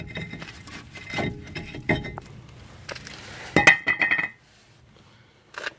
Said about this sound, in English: remove the rotor.